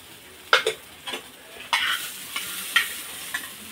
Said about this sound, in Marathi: तर हे तुरीचे दाणे भाजले आहेत बघा।